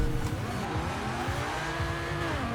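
A Lamborghini Huracan Performante drag build, twin turbo and about 1300 horsepower, launches in Forza Horizon 4 with wheelspin, a loud, rising engine roar and squealing tires over a short burst.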